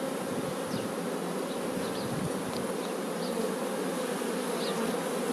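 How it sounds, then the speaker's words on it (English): Honeybee worker bees buzzing in a spring hive, a steady dense drone at close range with no voices. "Most of these bees here, these are female worker bees."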